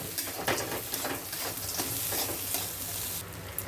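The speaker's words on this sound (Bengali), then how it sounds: "দিয়ে ভালো করে নাড়াচাড়া করে নেবো" A fish cutlet mixture with salt, fried peanuts and coriander leaves is stirred in a hot pan, giving a continuous close sizzle with steady scraping and stirring strokes throughout, and no voice.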